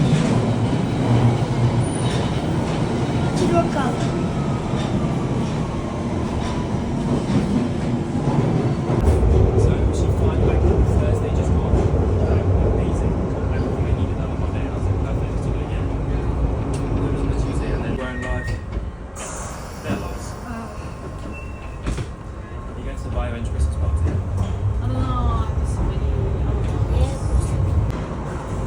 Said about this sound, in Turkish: şu anda trene bindik